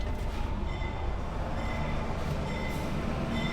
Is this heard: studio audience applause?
no